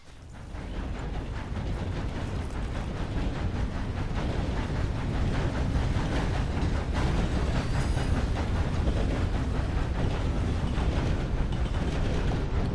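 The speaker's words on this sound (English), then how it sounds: "Nice little passenger train, huh?" Passenger train running in Red Dead Redemption 2, a steady continuous rumble with rhythmic clatter that holds at a loud, even level throughout, with no talking over it.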